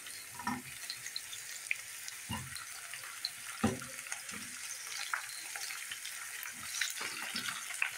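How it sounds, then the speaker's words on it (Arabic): Chicken pieces sauté with onions in a pan, a faint, soft sizzle punctuated by scattered clatters and stirring knocks, quiet overall with no talking. "انا بحب احط الفراخ اشوحها"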